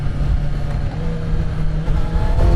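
A Kawasaki ZX-6R inline-four motorcycle engine drones loudly and steadily close by while riding, with the pitch climbing slightly as the revs build toward the end.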